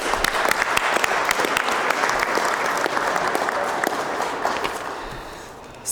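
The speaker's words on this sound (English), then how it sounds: "Maybe we can give them a round of applause." Crowd at a Thunder Bay event with the Prime Minister gives transit employees a round of applause, brisk dense clapping up close that slowly thins and fades toward the end.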